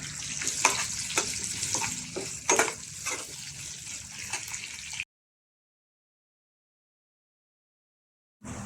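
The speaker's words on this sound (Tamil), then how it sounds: "வெங்காயம், தக்காளியை போட போகிறோம். தக்காளியை போட்டாச்சு." Onion and tomato frying for a bitter gourd curry, a close crackling sizzle with spoon scrapes and stirring knocks for several seconds, then abrupt silence before a brief return of sizzling at the end.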